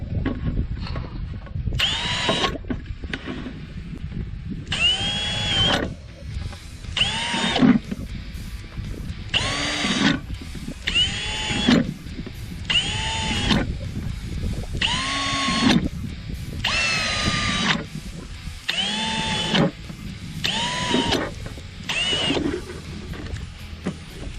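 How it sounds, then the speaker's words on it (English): A power drill whines in repeated short bursts into rhyolite rock, about a dozen in a row with brief pauses between, over a low rumbling background. "Precision drilling."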